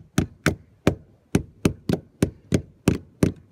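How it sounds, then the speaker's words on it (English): Ten sharp hammer blows land in a steady, evenly spaced rhythm while plugging carpenter bee holes in a house, each a loud crisp strike with a short ring, close by and with no talking. "so you get the hammer."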